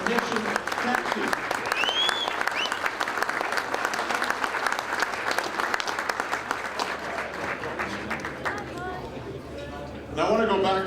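Audience at the 2012 Latin American International Sports Hall of Fame induction ceremony clapping: dense, sustained applause filling the hall for about nine seconds, fading toward the end before a brief voice and renewed noise.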